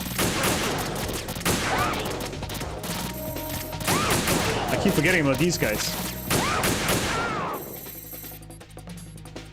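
Bursts of gunfire in Metal Gear Solid 2, with sharp shots scattered through the clip and then fading near the end. A person talks briefly over the shooting.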